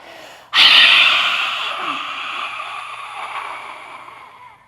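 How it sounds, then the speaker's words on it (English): Forceful open-mouth exhale during a yoga breathing exercise: one sudden, loud, breathy rush of air that slowly fades as the last of the breath is pushed out. "Open up your mouth and exhale, force every last drop of the breath out."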